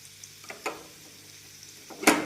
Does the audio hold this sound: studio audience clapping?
no